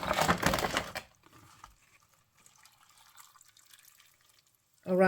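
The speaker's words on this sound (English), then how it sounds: "I'm just going to pour some water" Water poured from a container into a clear plastic plant pot filled with growing medium, a short splashing pour near the start, then quiet with faint handling sounds and a brief voice returning at the end.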